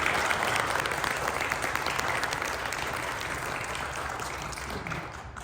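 An audience at a college speaker-series event claps to welcome the guest of honor: a full, sustained round of applause from a crowd that slowly eases off near the end.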